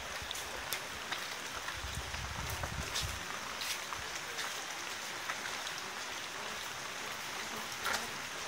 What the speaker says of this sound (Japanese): 雨が強くなってるのか。